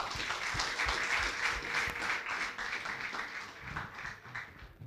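A crowd claps for pupils at a Rwandan education ministry exam results ceremony, a fairly close, uneven patter of many hands that thins slightly toward the end.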